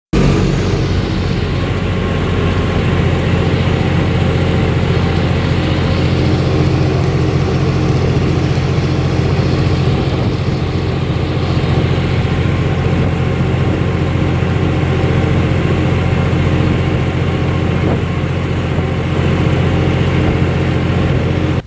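A line of tractors idles steadily in a queue at a crop procurement yard, their low, continuous engine rumble loud and close for the whole stretch with no pauses.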